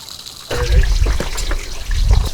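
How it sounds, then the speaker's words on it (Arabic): Spring water running through a falaj irrigation channel in a mountain village, a close trickling and gurgling flow that starts abruptly and continues steadily. "هاي تمديدات من العين للأفلاج عشان توصل المي لكل المزارع بالقرية"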